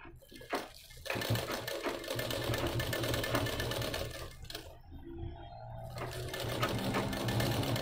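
A sewing machine stitches a sleeve, running in a steady close whirring rattle with a few short pauses and restarts.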